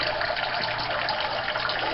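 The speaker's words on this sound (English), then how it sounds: "this water spout that releases the water back into the tank" A canister filter's water spout returns a steady stream into a home aquarium, making continuous close splashing and rushing water with no pauses and no voices.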